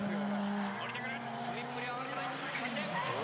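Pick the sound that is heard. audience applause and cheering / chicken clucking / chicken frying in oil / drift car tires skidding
drift car tires skidding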